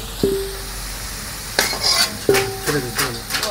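Onions and potatoes frying in a pan for a meat curry, with short bursts of stirring and scraping against a steady low sizzle, a few distinct spoon strokes close by.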